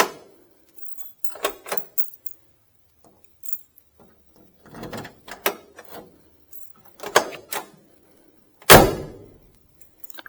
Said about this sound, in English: I'll lock it with a key.